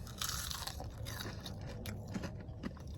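A bite into a thick, beer-battered fried onion ring gives a close, crisp crunch followed by a few softer chewing crunches, heard alone without talk.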